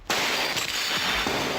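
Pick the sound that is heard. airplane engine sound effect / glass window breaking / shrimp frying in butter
glass window breaking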